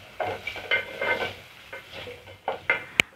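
Masala ingredients for a goat head curry are stirred in a pan. Soft scraping strokes and a faint sizzle come up close in several separate bursts, ending with a sharp metallic clink.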